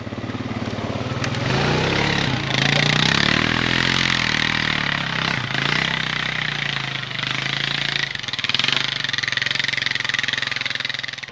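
A Honda ATV engine drives through winter backwoods littered with logs and brush, its steady loud drone rising and falling in pitch as the throttle shifts, close and continuous throughout.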